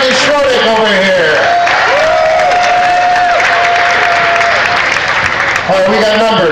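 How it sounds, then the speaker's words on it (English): Crowd applause and cheering for contestants at a pierogi eating contest, loud continuous clapping mixed with voices, whoops and someone talking over the noise throughout. "a nice round of applause for all our contestants here"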